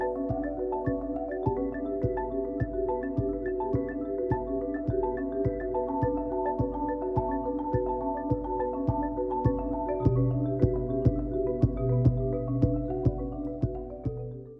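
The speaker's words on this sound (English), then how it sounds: "That's the sound of the marimba." A marimba duo plays bright, mellow mallet-struck bars in steady rhythmic patterns with sustained resonant tones, full and close with no talking.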